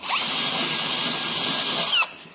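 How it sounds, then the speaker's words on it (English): Close, loud, continuous whine of a power drill turning an 1/8-inch bit as it circles a hole in the old paint-covered body of a 1978 Ford Bronco, running about two seconds before stopping abruptly. "Easiest way I find is just an 1/8-inch drill bit."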